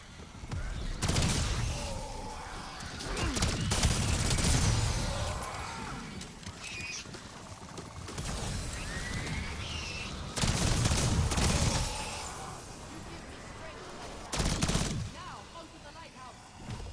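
Light machine gun fire in Black Ops 7 Zombies, loud sustained bursts of rapid shots in several separate volleys, with quieter gaps of game ambience between them.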